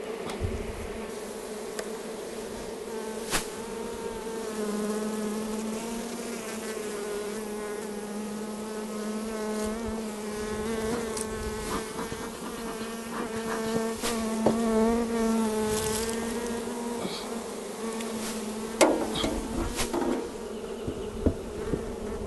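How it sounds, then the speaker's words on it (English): A honeybee swarm buzzes around a hive box of drawn comb during a swarm capture, a dense, steady drone of many insects close by with occasional sharper knocks and individual bees passing near. "So someone's misfortune by having their hive swarm is our fortune by being able to catch it."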